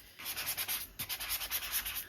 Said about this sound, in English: I took a sanding block and I did sand it